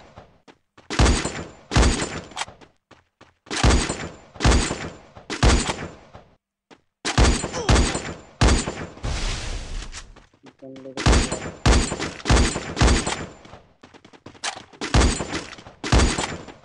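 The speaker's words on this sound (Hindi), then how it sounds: "भाई बहुत गोली चला ली" Rapid bursts of gunfire in the battle royale game Free Fire, loud and close, firing in repeated short volleys with brief pauses between, and players talking at times in between.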